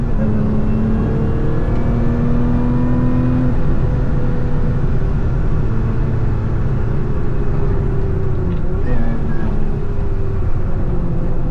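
A Lotus Emira at speed on a race track, its supercharger induction whine rising and falling over a steady engine drone and road roar, loud and close from inside the car.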